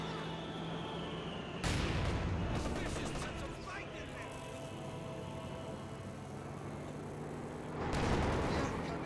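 Tank cannon and infantry gunfire in the Company of Heroes 2 video game, with heavy booming blasts and dense rattling fire in two loud bursts over continuous battlefield noise and commentary.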